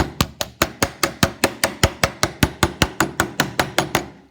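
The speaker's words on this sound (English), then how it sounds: "take a hammer on its normal face" Hammer face flattening the twisted, kinked outer edge of a beaten metal dish: about twenty sharp metallic blows in a fast, steady rhythm, loud and close, with no talking.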